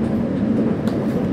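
Electric commuter train between Catania and Palermo running at close to 100 km/h on smooth track, a steady loud rumble and roar of the moving carriages heard from inside, continuous throughout with no pauses.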